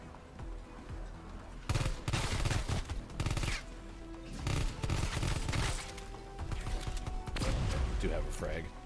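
Pistol fire in a zombie video game comes in several loud bursts of rapid shots, separated by short pauses and mixed with busy game noise.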